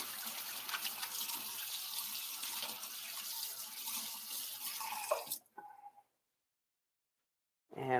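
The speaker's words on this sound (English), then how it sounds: "Rinse my hands." Tap water runs steadily while hands are rinsed at a kitchen sink during hot dog prep, a broad continuous rush that cuts off abruptly, followed by silence and a brief voice.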